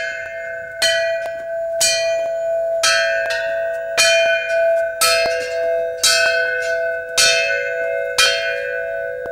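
An elephant playing a solo on a ranat, a Thai xylophone, striking bright ringing tones in uneven clusters with long sustained overtones, loud and close with no voices.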